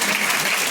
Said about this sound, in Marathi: सर्व विद्यार्थ्यांनी जोरदार टाळ्या वाजवून